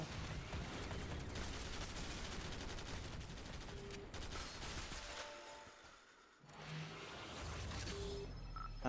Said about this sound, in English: So at the end of each room I am emptying my magazine of the gun